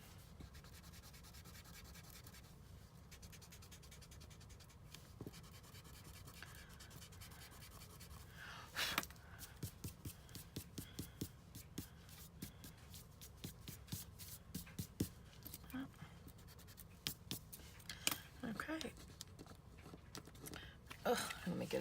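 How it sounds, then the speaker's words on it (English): An eraser rubs pencil lines off a card-stock project in a quiet indoor crafting setting, a steady close scratchy friction in short repeated strokes that grow busier and louder toward the end. "let's go back and just erase these other pencil lines here"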